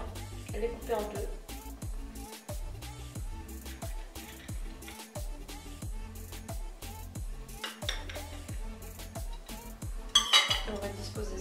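Cutlery clinks and scrapes against a plate as sweet breakfast omelettes are cut in half, a steady run of small taps and knocks over several seconds with a voice talking alongside.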